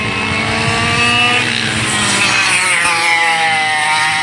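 Rear-engine racing go-karts run on a track during practice: a loud, nearby, sustained engine drone with shifting pitch as karts pass and rev, with no talking.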